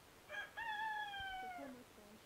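A KALRO improved indigenous chicken crows once, a clear, drawn-out cock-a-doodle-doo with a short lead-in note, moderately near against quiet background hiss, with no talking.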